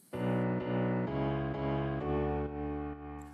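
Piano chords in the drop of an electronic dance track, a full loud mix with a steady pulsing rhythm around roughly half-second beats, no talk.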